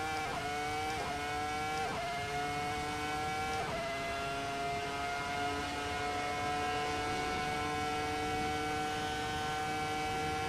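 A Ferrari F2004 Formula One engine in Assetto Corsa at Imola screams under hard acceleration, its pitch climbing steeply through several quick gear changes before holding a sustained, loud, close high-revving wail.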